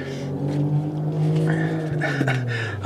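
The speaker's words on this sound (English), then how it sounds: "That's a loud motorbike" A loud motorbike passes outside, its steady low engine drone rising and falling through the whole stretch with a slight pitch shift as it goes by, heard alone as background noise without talk.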